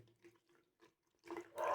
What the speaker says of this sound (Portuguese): Então vamos começar a colocar água aqui, ó.